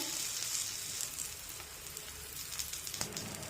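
Curd dhapate flatbread roasts in an oiled pan with a steady, close, hissing sizzle and small crackles running unbroken throughout.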